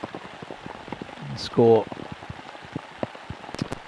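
Rain falls steadily at a T10 cricket match between Prague Cricket Club and United, a soft patter of drops under a commentator's voice.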